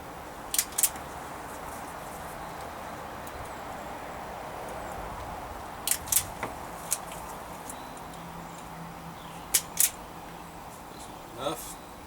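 Sharp snips from a cutting tool clipping connectors off wiring during a pontoon boat USB charger install, heard as a few scattered double clicks at close range over steady room hiss.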